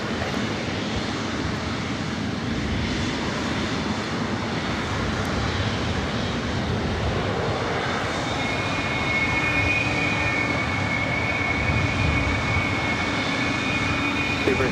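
A heavy airliner takes off from runway 24 right at LAX, a steady broad engine roar holding at constant loudness, with a faint whine rising partway through and possible radio voices underneath.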